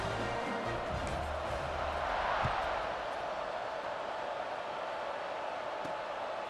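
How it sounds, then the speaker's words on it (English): A stadium crowd in the video game College Football 26 buzzes as a broad, steady murmur with a slight swell, fairly loud but diffuse, with a few faint thumps and no clear talking. "this crowd is buzzing after that last score"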